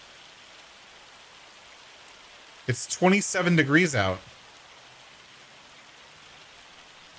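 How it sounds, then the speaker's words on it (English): Hail falling in Farming Simulator 25 during a summer day on the farm, heard as a steady, soft rain-like patter throughout, with someone speaking briefly over it midway. "It's hailing."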